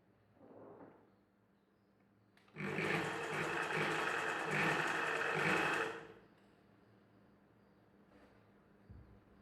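A sewing machine stitches lining into the inside of a back-open, back-hook blouse piece, running steadily for about three seconds before stopping, with quiet room tone before and after.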